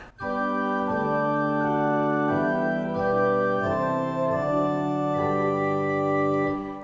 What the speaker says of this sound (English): on top of those two creates the principal chorus for the positif division